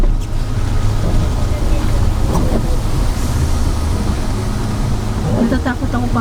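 Strong wind buffets the microphone on an Ilocos Norte roadside, a constant loud rumbling roar with faint voices and other sounds underneath.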